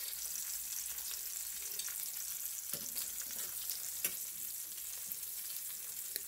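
Salmon fillets and onions frying in a pan, a steady dense sizzle with occasional sharp pops and soft utensil clicks, close and continuous with no talking.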